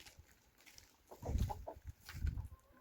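Farmyard chickens cluck close by in two short bursts of low, throaty calls separated by a brief quieter pause.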